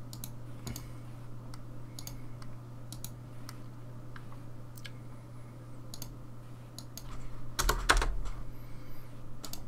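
Keystrokes on a computer keyboard clatter in irregular bursts over a steady low hum, with a louder flurry of typing near the end and no talk.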